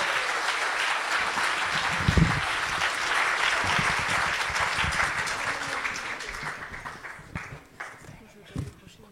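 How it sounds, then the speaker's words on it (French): Audience applause at a poetry night, a full broadband crowd clapping for a father-and-daughter poetry duo, loud at first and then thinning out into scattered claps toward the end, with a few voices mixed in. "On peut les applaudir bien fort"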